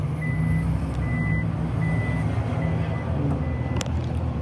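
Warning beeps sound as the power tailgate on an Isuzu MU-X LST 4x2, a 3-litre turbo diesel SUV, closes by itself, a steady electronic tone repeating at even intervals over a constant low hum.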